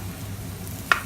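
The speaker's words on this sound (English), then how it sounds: "So I'm going to stir this in with the meat" Cauliflower rice being stirred into cooked meat with butter and onions in a frying pan, giving a soft, low sizzle with a single brief scrape of the spoon near the end.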